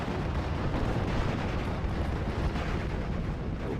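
A Sherman tank fires on infantry in Steel Division, heard within a dense, continuous wall of battlefield rumble, booms and crackling gunfire that holds steady and loud throughout.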